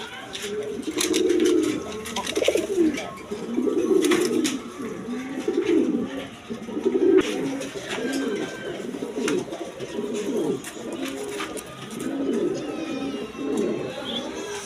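Toy Lahori pigeons at a pigeon farm coo repeatedly in soft, rolling, overlapping calls close by, while someone talks over them throughout.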